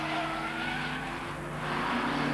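A Porsche club race car brakes hard into a tight 180-degree right-hand turn at a 1989 championship race, its engine droning steadily and loudly with a sustained tire squeal throughout.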